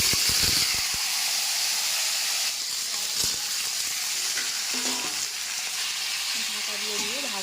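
Taro (kochu) and potatoes fry in hot oil with bay leaf and whole cumin, giving a loud, continuous sizzle and hiss throughout, with a few stirring clinks and faint voice in the background.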